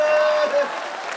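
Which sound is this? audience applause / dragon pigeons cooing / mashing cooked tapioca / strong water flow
audience applause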